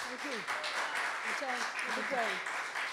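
Applause at the Bronx Rising! Routes of the Black Madonna performance, moderate clapping from the audience spread across a few seconds while voices speak over it.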